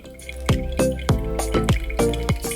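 Water poured over ground organic coffee for a pour-over brew patters in a quick rhythmic series of close, loud drips and splashes, heard alone without talk.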